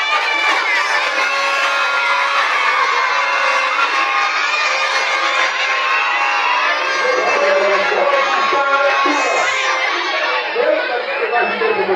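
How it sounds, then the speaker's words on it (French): Children at a kindergarten graduation ceremony in Kananga cheer, shout and chatter loudly as a crowd, a steady dense roar that fills the whole stretch with excited voices rising and falling. "Applaudissez pour vos enseignants."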